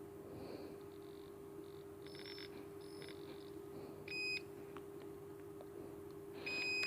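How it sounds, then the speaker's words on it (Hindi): Short electronic beeps from a multimeter's continuity test on the charging circuit of a Nokia 6.1 Plus phone, checked at the charging connector, fuse and coil. Brief tones come near four and seven seconds over a steady background hum, with no talk. "देखिए कॉइल वगैरह में बीप दे रहा है।"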